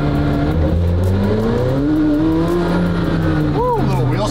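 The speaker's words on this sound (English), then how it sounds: "Woo, a little wheel spin." A hypercar on cold Michelin Trofeo R tyres accelerates hard with a loud, rising engine roar heard from close by, and a brief chirp of tire squeal near the end, with a person talking over it.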